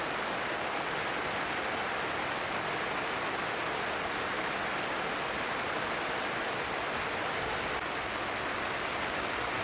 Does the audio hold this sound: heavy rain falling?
yes